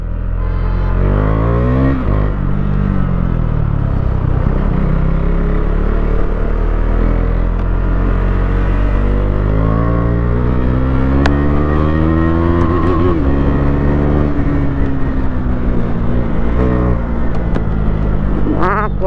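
KTM Duke 390 motorcycle engine revving hard and close, loud sustained roar with rising and falling pitch sweeps as the throttle is blipped repeatedly.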